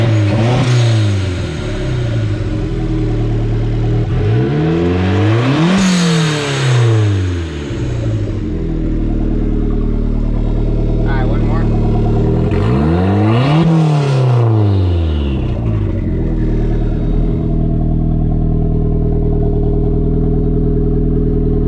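A car with a custom 2.5-inch straight pipe exhaust idles loudly and revs twice, each rev a raspy climb and fall, up close with no talking.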